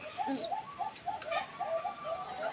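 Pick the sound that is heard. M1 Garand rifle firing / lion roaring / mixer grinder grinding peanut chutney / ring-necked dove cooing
ring-necked dove cooing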